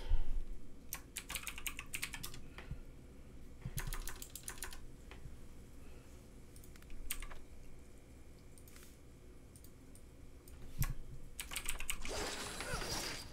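Keys on a computer keyboard are typed on and off in quick bursts of soft clicks with pauses between, heard close but quiet while playing Riders of Icarus.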